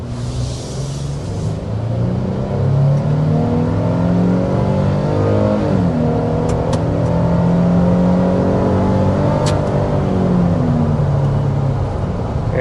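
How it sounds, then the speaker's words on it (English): A turbocharged V6 Toyota Tacoma TRD pulls hard past 60 mph, its loud engine drone rising steadily in pitch, with a shift partway through and no talking over it. "that's what you're really going to feel when you get on the throttle with this turbocharged Tacoma"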